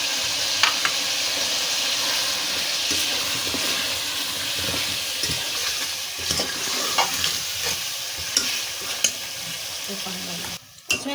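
Water poured into mutton frying with onion, cumin, garlic, ginger and spices, producing a continuous loud sizzle and bubbling with stirring scrapes and a few sharp clatters near the end.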